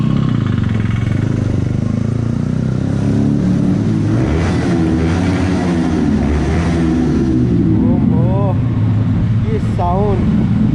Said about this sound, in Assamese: ইয়াতে গাড়ীৰ আৱাজটো আপোনালোকে শুনিব পূৰা ইকো হৈ যাব